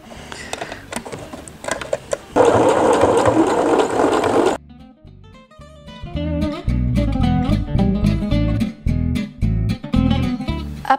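Sewing machine topstitching along the seam of a pouch with piping, running in steady bursts with brief pauses, loud and close with no talking.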